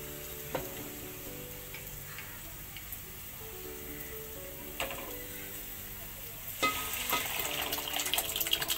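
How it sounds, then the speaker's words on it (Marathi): Dal poured into a hot pan of cooking tempering, giving a steady low sizzle with a few clinks and scrapes, then a louder, denser hiss and bubbling as the liquid hits the pan near the end. "आता ह्याच्यामध्ये डाळ ओतून घेऊया"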